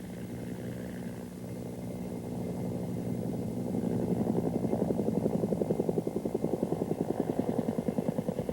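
Two Bell AH-1 Cobra helicopters fly ahead of a dive, their engine and rotor drone steady at first and then building into a loud, rapid rhythmic blade thumping, with no voices.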